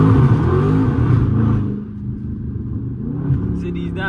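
A Dodge Scat Pack 300 engine roars loudly as it accelerates, then drops pitch through downshifts into a lower rumble, with people talking over it inside the car.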